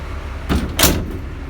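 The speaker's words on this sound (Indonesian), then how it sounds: "Ini pintu ditutup ya?" Door of a large bus being shut, heard as two quick, close bursts of sliding and closing within a second, over a low engine rumble.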